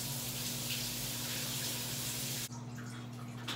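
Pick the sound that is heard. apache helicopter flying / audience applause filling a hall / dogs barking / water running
water running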